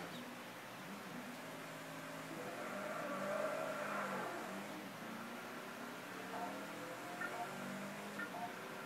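Steady engine drone of an Audi RS6 accelerating in the racing game Test Drive Unlimited 2, rising gradually in pitch and swelling slightly midway, moderately loud and continuous with no talk over it.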